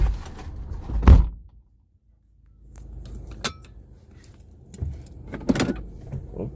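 A car door, apparently on a Lyft ride-share car, is opened and then thumps shut as a passenger climbs out. Sharp clunks and door-handle clicks stand out from the quiet cabin, with a brief silent pause in between.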